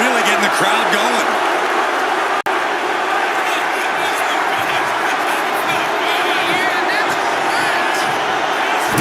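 A loud, steady arena crowd roars and cheers throughout a WWE 2K25 wrestling match, a dense wash of noise with commentary voices talking over it and one brief dropout partway through.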